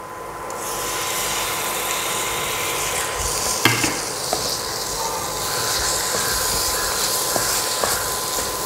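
Mushroom masala with chili powder being sautéed and stirred in a pan, a steady hissing sizzle with occasional clanks of a spoon against the pan, no speech.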